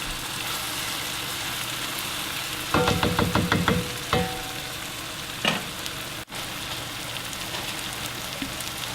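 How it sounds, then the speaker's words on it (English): Spices fry in hot oil and tallow in a pan for a Durban curry, a steady sizzle broken by a burst of crackling pops and a couple of sharp stirring clatters. "So we give the spices about 2 minutes in the hot oil to get all their flavors out"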